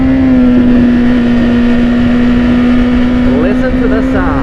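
A BMW S1000RR sport motorcycle engine held in first gear, a loud steady drone with a constant pitch, recorded close up and continuing without a break.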